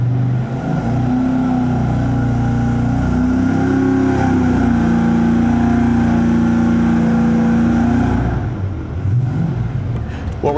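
A cold car engine on an EFI setup idles fast with a steady, loud, close droning hum and a high, even idle speed for about eight seconds before the sound drops and fades.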